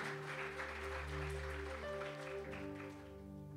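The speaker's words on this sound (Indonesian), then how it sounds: "Yang percaya sekali lagi beri tepuk tangan buat Tuhan." Church congregation clapping during a Good Friday service at JKI Big Mighty God in Semarang, a moderate wash of hands beneath sustained organ or keyboard chords that carry on through it.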